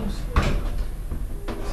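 Doors of a 1970s Otis lift sliding shut, with a couple of dull clunks and rumbles close by and a voice talking over them.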